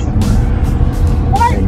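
Cars on the Gomen Bridge make a constant low rumble of traffic, with passing vehicles swelling briefly while people talk over the noise.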